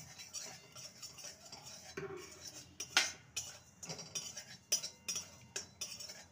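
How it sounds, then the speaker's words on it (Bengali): White sesame seeds dry roasting in a kadai over a low gas flame, with quiet stirring scrapes and sharp spoon clinks against the pan, faint and close, no talking. "তিলটাকে আমি ভেজে নেব, একটু ড্রাই রোস্ট করে নেব"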